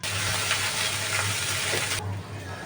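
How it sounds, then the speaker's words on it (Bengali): A paste of ground onion, ginger and garlic with oil, turmeric and salt fries in a pan as a loud, steady hiss that suddenly softens near the end. "মশলাটা একটু ভাজা ভাজা করে নেব"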